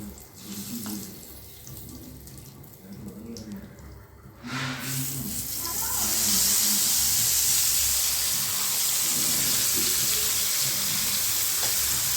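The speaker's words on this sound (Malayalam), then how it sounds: "ഇതിലേക്കാണ് നമ്മുടെ വഴുതിനിങ്ങ നമ്മൾ വറുത്തിട്ട് ഇടണത്" Eggplant frying in oil sizzles loudly and steadily, swelling to a strong hiss after a few seconds of quieter kitchen sounds.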